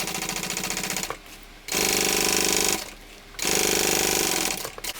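A sewing machine topstitches through the base and seam of a fabric tote bag, running in three loud, steady bursts of rapid stitching separated by short pauses.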